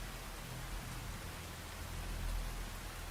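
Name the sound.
rain in Phantom Brigade video game mission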